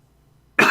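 A single sudden, harsh cough bursts out loud and close after near silence, cut off at the end.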